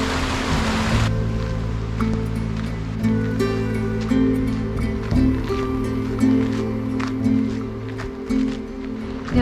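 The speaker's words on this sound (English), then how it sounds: "Over to the side, we have the creek again, and the creek is just absolutely beautiful." A creek in Crazy Woman Canyon runs beneath a steady hum and tonal drone, its watery rush blended with a rumbling engine-like background and occasional knocks, with no talking.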